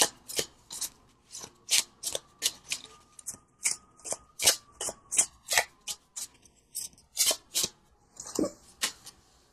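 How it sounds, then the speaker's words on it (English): A Tarot of a Moon Garden deck being shuffled by hand, close and crisp, as a quick series of riffling card flicks and slaps in a steady rhythm, with no talking. "I'm going to pull from the Tarot of a Moon Garden."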